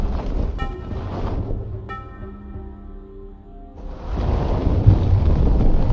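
Storm effect from a Hindi fantasy adventure cartoon: a sudden gale as trees sway, with loud rumbling thunder and rushing wind that dips under a musical tone, then surges back strongly with no talking.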